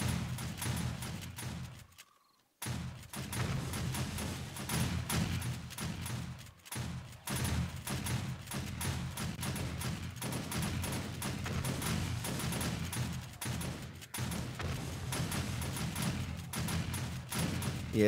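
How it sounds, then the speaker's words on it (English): Shotgun turrets blast away at a feral radiated horde in 7 Days to Die, a dense, continuous wash of booming gunfire with brief gaps, loud and close throughout. "shotgun turrets have been doing most of the work"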